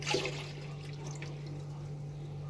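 A short burst of milk pouring into a blender jar, then quieter trickling over a steady low hum.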